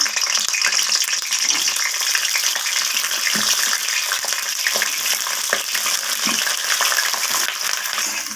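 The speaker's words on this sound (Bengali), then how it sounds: "এরপর আমি এখানে কেটে রাখা ফুলকপিগুলোকে দিয়ে দিলাম তেলের মধ্যে।" Cut cauliflower fries in hot oil with a dense, even hiss of sizzling, steady and close throughout, with a few faint knocks of stirring and no voices.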